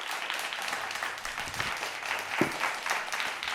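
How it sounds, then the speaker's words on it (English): A small audience claps during an evening acoustic music livestream, a light, moderately close patter of hands lasting a few seconds with no voices over it. "Thank you for the claps, folks."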